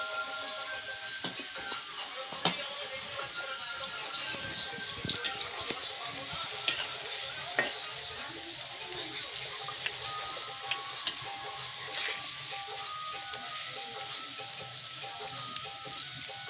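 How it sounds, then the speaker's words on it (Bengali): Palm-semolina fritters (taler bora) fry in oil over medium heat, giving a steady, fairly quiet sizzle with scattered crackling pops throughout. "তো এভাবে একটু রাউন্ড করে ভেজে নেবেন"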